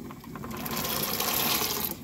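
Half a kilo of soaked chickpeas pouring into a pot of water, a steady close rattling splash that runs for about two seconds with no talk.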